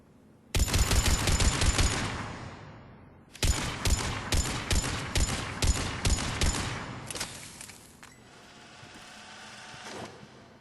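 Mattock rifle in Mass Effect 3 firing rapid semi-automatic shots, a dense burst of loud sharp cracks, a short pause, then another fast string of shots followed by fading echoes.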